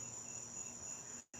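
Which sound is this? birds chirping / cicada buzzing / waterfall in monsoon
cicada buzzing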